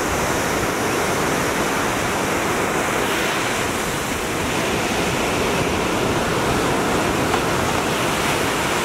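Ocean surf washing steadily at a beach on a summer day, a broad continuous roar of breaking waves with wind noise on the microphone, loud and unbroken with no talk.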